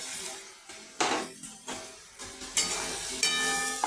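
Tomato, chilies and ground spices with salt and turmeric sizzle in hot oil for a Bengali fish curry, with loud bursts of frying as the mixture is stirred every half second or so, close up.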